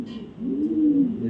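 A female racing pigeon gives a single drawn-out coo, a low throaty call heard close and clear over a quiet background.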